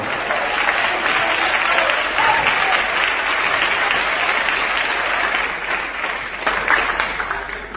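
Steady, dense applause from a large church congregation, sustained throughout with no pause, rising slightly near the end.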